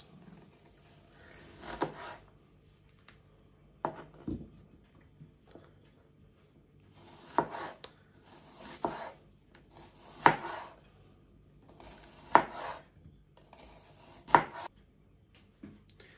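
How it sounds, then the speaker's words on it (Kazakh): A knife thinly slicing food on a cutting board, with sparse, irregular knocks: single cuts and short bursts spaced apart, close and fairly crisp, set against quiet room background. "Өте қалың қылмай осылай жіңішкелеп тураймыз."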